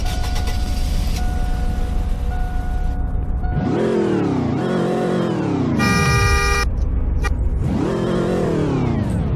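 A 2001 car with a V8 engine in Roblox Greenville revs up loud and close, three rising-and-falling engine sweeps with a short horn-like tone between them, over a steady idle hum.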